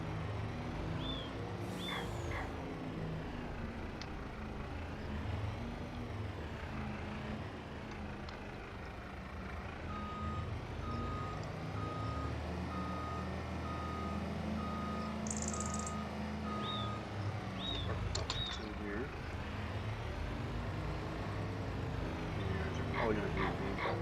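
A dump truck in Farming Simulator 25 sounds repeated reversing beeps at an even pace over a low engine drone, with a player talking throughout.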